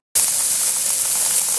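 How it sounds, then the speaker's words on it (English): Steak coated in seasoned salt with garlic and onion sizzles on a grill, a steady, loud, even hiss that starts abruptly and continues without a break. "You hear those sizzling?"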